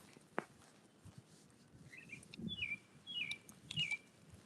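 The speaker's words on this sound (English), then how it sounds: "You hear those birds?" Small birds chirping outdoors, a few faint, short, high tweets repeating near the end over quiet background rustle and light footsteps.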